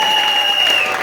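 A congregation applauds during a French-language Sunday thanksgiving church service, a brief burst of dense clapping from a crowd with a sustained tone ringing underneath.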